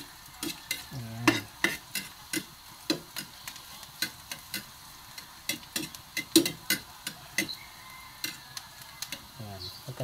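Chopped onions sautéing in a pan until golden brown for stir-fried pechay with sardines, with a spatula scraping in quick repeated strokes over a soft sizzle, close and fairly loud, and a brief voice twice.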